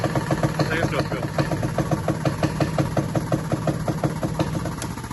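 A hydraulic press pump on a Mercedes Vito wheel bearing job runs at a steady, rapid mechanical pulse as pressure builds. The rhythmic throbbing holds loud and close throughout.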